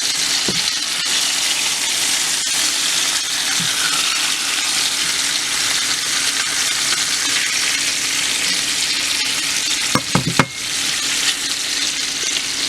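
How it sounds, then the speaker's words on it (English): Salmon frying in a pan with its skin side already crisped, giving a loud, constant sizzle that holds steady throughout, with a few sharp knocks near the end. "We're gonna fry this for a bit more"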